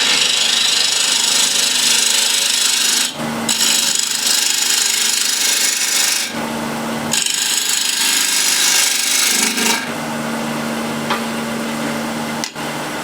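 A spindle gouge cuts a wooden plate spinning on a lathe at around 1500 RPM, giving a loud continuous scraping rush broken by three short pauses as the tool lifts from the wood.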